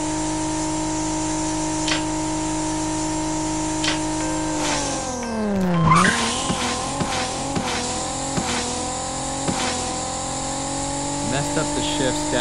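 A Ferrari California in the Racing Rivals game launches off the line with a steady high engine drone, then a quick dip and rise as it shifts, with a brief tire squeal and further fast upshifts following.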